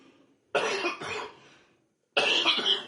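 Two or three harsh coughs, close and loud, with a brief gap before a final forceful cough; no talking.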